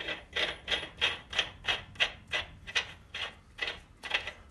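A metal brake drum being worked onto a rear bay hub, giving about nine evenly spaced rasping, scraping strokes close by with no talk.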